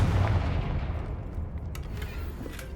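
A Confringo fire spell in Hogwarts Legacy lands as a loud, booming blast at the start that rolls off into a rumbling decay, with a few light magical crackles trailing after.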